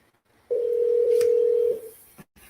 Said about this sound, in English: It looks like it's just this number is just ringing.